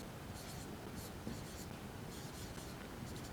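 Pen or marker writing out a Class 10 maths solution on triangle similarity, a steady scratchy stroking in short bursts, close and fairly quiet, continuing throughout with no talk.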